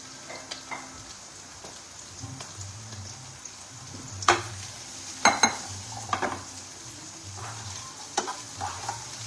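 Paneer fries in butter in a pan, a soft steady sizzle broken by scattered stirring scrapes and sharp utensil taps against the metal, heard up close without speech.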